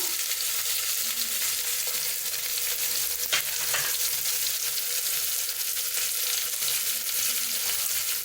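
Spiced egg biryani masala with red chili powder, cumin and garam masala sizzles and fries steadily in a pan, with occasional scraping stirs over a constant hiss.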